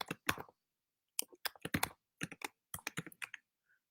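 Bursts of computer keyboard typing as a comment is written, quick clusters of close key clicks separated by short pauses.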